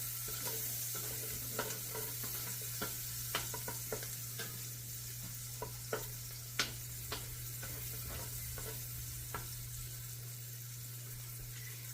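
Vegetables sauteing in a pan give a constant soft sizzle, broken by scattered clicks and taps of a utensil stirring, with a low steady hum underneath.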